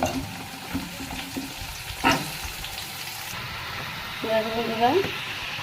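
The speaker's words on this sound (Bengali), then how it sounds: "এবার দেখো আমি এর মধ্যে কেটে রাখা সবজিগুলো দিয়ে দেবো।" Chopped vegetables go into a pan of already fried prawns and onions for a Malabar spinach prawn dish, bringing a steady close sizzle with stirring clatter, a sharp knock partway through and brief clinks near the end.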